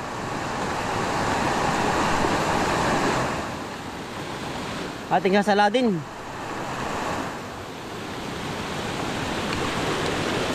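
A river swollen by days of rain rushes past in a continuous, loud broadband roar close by, swelling and easing slightly, while someone speaks briefly over it midway.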